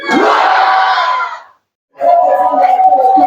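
A church congregation at an inauguration service shouts together in a loud, sustained collective cry, breaks off into a short silence, then erupts again in a second long burst of massed voices.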